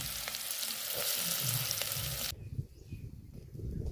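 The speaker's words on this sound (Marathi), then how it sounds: "तेल गरम झाल्यानंतर कांदे टाकलेले आहेत" Onions fry in hot sweet oil with a loud, continuous sizzle that cuts off abruptly partway through, leaving quieter crackles and clatter.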